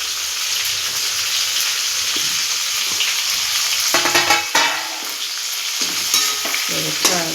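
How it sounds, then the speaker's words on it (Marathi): Stuffed brinjal sautéed with leftover masala in a pan: a continuous close sizzle with frequent scraping stir strokes of a spoon against the pan, no talking. "आता उरलेला मसाला याच्यात परतून घेते।"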